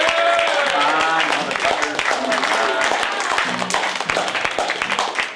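Audience at Caroline's comedy club on Broadway applauding and cheering, a dense steady wash of clapping and crowd noise that stays loud throughout, with voices mixed in.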